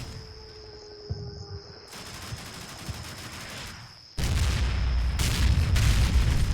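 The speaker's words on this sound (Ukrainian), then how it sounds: "Ще один давай постріл." Heavy booming blasts from cannon fire in the war game Combat Mission: Shock Force 2, with a sudden loud burst partway through followed by sustained rumbling noise.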